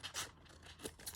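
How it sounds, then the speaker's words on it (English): Scissors are wriggled as they cut through craft material, giving about three quick, soft snips that are close but quiet. "I'm going to wriggle my scissors as I go"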